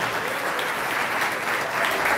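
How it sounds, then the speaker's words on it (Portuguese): Church congregation clapping together in steady, dense applause that fills the whole moment, loud and close with no pause. "Aplauda o Senhor."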